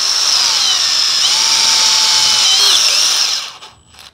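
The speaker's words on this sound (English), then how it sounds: "And try my Christmas tree bit. See if that'll cut some bigger holes" A power drill with a step drill (Christmas tree) bit boring larger holes in metal for a rivet nut, a loud steady high-pitched whine with slight pitch shifts as the bit cuts, stopping abruptly near the end.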